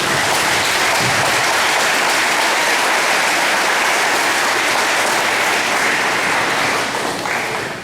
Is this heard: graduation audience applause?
yes